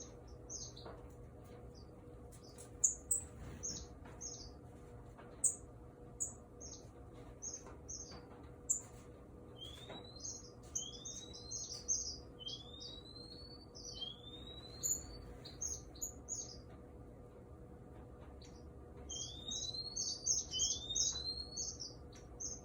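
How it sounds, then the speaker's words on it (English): Black-cheeked birds call in an aviary during courtship, giving a run of high, quick chirps and rising whistled notes in scattered bursts over a low steady hum, growing busier toward the end. "here's a nice courtship of the black cheeks"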